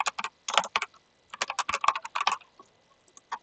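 Fast typing on a computer keyboard, close and clear, in short bursts of clicking keystrokes with brief pauses between them.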